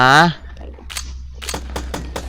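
Several sharp gunshots in the block-building game Minecraft, four or five quick cracks spaced irregularly after a brief vocal sound, crisp and close against a low steady hum.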